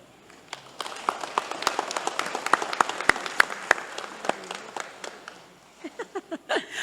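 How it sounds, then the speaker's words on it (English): During a presidential state visit in Sonsorol State, an audience applauds the Lieutenant Governor, loud crisp claps building into a dense round and then tapering into a few scattered claps and murmurs. "Please, another big, loud applause for Lieutenant Governor."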